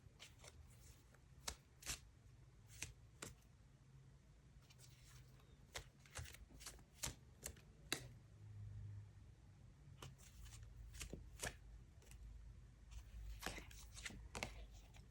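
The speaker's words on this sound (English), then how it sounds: "they want me to shuffle again before I pull the second card" A deck of tarot cards is shuffled by hand close by, with quick riffling bursts and sharp snaps repeating irregularly over a quiet room.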